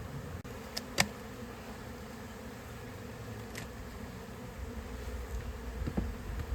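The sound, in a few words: honeybees buzzing at an open beehive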